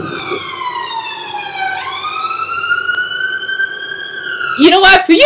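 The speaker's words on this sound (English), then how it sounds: "That's supposed to be an emergency ambulance." A recorded ambulance siren from London plays loud and alone, its wailing tone gliding down and then back up, before a burst of other noise cuts in at the end.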